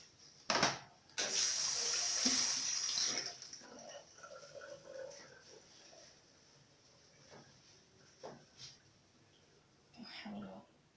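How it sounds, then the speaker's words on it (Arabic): Hands being washed under a running kitchen tap, a loud steady gush of water for a couple of seconds then quieter splashing and handling noises, close by. "غنغسل يدي ونرجع معكم باذن الله"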